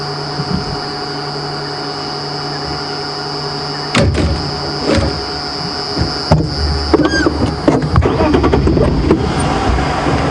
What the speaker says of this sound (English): So engine is turning over.